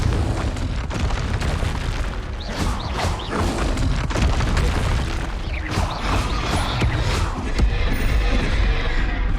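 Confringo fire-blast spell explosions in the video game Hogwarts Legacy make dense, loud booms and bursts. Crashing impacts follow one another over a constant roar of combat noise, with no pause.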